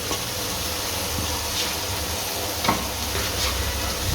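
Mashed chicken being stirred into a samosa filling in a hot pan, a steady sizzle with soft scraping strokes of a spoon, no talking.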